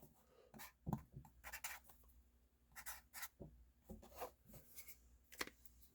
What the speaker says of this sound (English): So I'll just write that here on the lid.